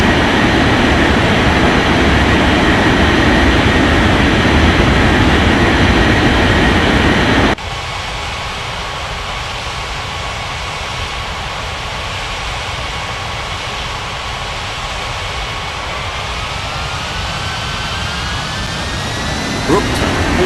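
Jet airliner taking off in the game Unmatched Air Traffic Control: a loud steady roar that drops abruptly to a lower rushing hum, with a whine slowly rising later. The roar continues throughout.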